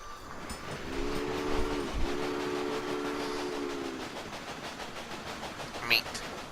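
Steam locomotive in the railway-building game Railway Empire, with a steady hiss and rolling rail rhythm, a sustained two-tone steam whistle sounding for about three seconds, then a sharp high squeal near the end.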